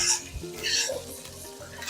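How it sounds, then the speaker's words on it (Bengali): Chopped onions fry in a pan toward light brown, a brief close sizzle with soft stirring scrapes. "পেঁয়াজগুলো আমি খুব হালকা ব্রাউন করে ভেজে নেব, খুব বেশি করিয়ে ফেলবো না।"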